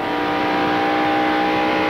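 A stock race car engine roars steadily at high revs on a one-mile oval racetrack during the 1993 Splitfire Spark Plug 500, a continuous loud drone with no speech.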